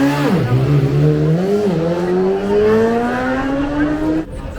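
Race engines at the Isle of Man TT 2023 roar loud and close, dropping in pitch and then climbing steadily through the gears as the machines pull away from the start, one continuous howl that cuts off near the end.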